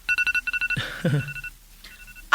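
A phone alarm rings in a rapid repeating electronic trill, about nine quick pulses, then cuts off while a person speaks briefly, with a faint beep returning near the end.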